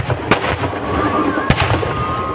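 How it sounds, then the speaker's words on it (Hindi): Fireworks burst at a Ravan Dahan celebration in Vadodara during Ramleela festivities, with two sharp loud bangs standing out over a continuous crackling, rumbling background of distant explosions and crowd noise. "आतिशबाजी का आनंद ले रहे हैं।"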